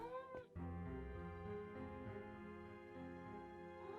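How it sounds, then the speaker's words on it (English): A cat meows with long, wavering harmonic cries in the Nancy Drew adventure game Mystery of the Seven Keys, set in Prague, heard close and fairly loud over a steady low game ambience. "It's a cat."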